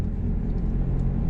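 A car's engine rises gently in a steady low rumble as it re-accelerates in second gear during a driving lesson, heard from inside the car without talking.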